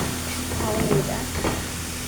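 Steam hisses from a pot of cooking rice as a steady broadband hiss, with a few brief tonal sounds rising over it.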